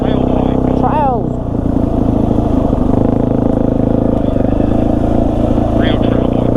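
Suzuki DRZ400 and Yamaha XT350 trail bikes ride single-track trails, their engines droning steadily and close with a brief rev near the start, while riders talk over the noise.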